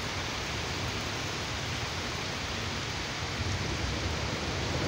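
Heavy rain pours down during a humid summer storm in Georgia, a dense, constant wash of hiss and rumble that stays loud and unbroken with no voices.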